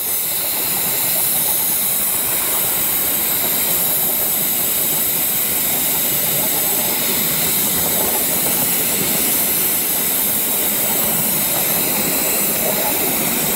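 A loud, steady steam hiss from the injector of a 7.25-inch gauge model steam locomotive runs continuously over a low mechanical rumble, close and unbroken throughout, with no voices.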